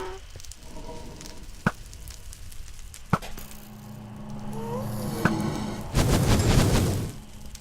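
Projectiles being fired at a player in the Minecraft video game: several short, sharp impact snaps spaced a second or two apart, over low rumbling game ambience, then a louder noisy burst near the end, with no talking.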